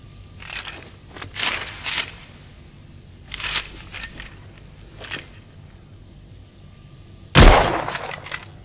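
A rifle with a telescopic sight fires in the video game The Order: 1886: several sharp, crackling bursts spaced a second or so apart, ending with one loud, close report, with no talk over them.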